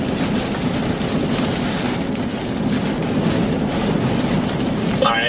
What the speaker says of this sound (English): A decent size hail in here.